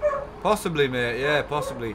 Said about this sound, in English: Again, I'm sorry about the barking.